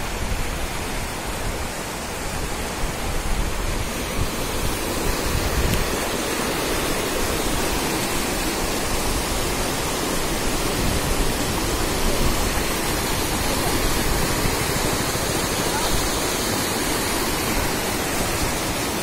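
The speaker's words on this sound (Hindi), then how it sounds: "ये देखिए दोस्तों हमारे गांव की नदी और इसका पानी" Water of a village river rushing steadily, a dense, loud, unbroken wash of flowing water that holds constant throughout with no voices.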